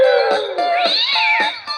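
Cat gives a run of loud, close meows and drawn-out wails, several calls in quick succession with a slight rough edge, and no talking over them.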